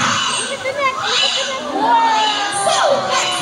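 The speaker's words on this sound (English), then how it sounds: "How about applause for sea lion friends?" Audience at a sea lion show at Manila Ocean Park erupts in loud cheering, with children shouting and squealing over a busy crowd roar, close and sustained throughout.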